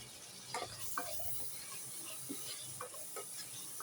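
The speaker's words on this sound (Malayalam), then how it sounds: "അപ്പോൾ ഇതെല്ലാം ഒന്ന് മിക്സ് ചെയ്ത് കൊടുക്കാം" Spoon stirring a chickpea mixture in a pan, with a few soft scrapes and taps over a faint steady sizzle, close and quiet.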